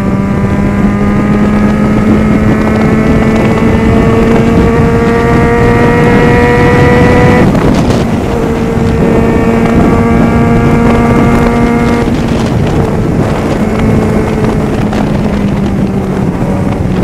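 A Yamaha XJ6 motorcycle engine drones steadily while riding, its pitch shifting as gears change, with heavy wind buffeting the microphone throughout.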